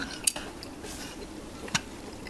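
A plate holding a Thai seafood gravy noodle dish with shrimp and squid is lifted, giving two short clinks of cutlery against the dish, about a second and a half apart, fairly close and with no talking.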